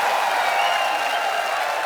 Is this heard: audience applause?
yes